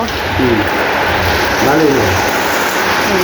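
Steady rain pours down in a constant dense hiss while a voice talks softly beneath it.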